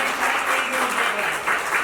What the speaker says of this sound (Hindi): एक बार तालियां अगर हो जाए सुरेश जी के लिए